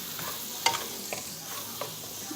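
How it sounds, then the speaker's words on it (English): Garlic sizzles steadily in a hot pan while being stirred, a constant close frying hiss with a few light scrapes and taps of the utensil. "So, got to keep garlic moving or it'll burn."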